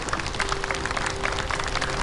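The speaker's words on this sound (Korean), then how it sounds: "다시 한번 큰 박수 부탁드리겠습니다." Dense, steady applause from an audience at a 2021 Buddhist cultural festival fills the moment, continuous clapping with no break from start to finish.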